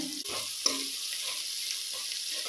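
Onions and green chillies sauté in a pan for mutton biryani, giving a steady, fairly loud sizzle and crackle throughout, with a few small clinks and no talking.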